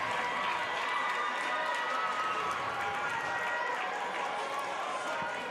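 High school hockey crowd in an arena cheers steadily as the home team skates onto the ice before a varsity game against Totino Grace, a continuous, moderately loud roar of many voices.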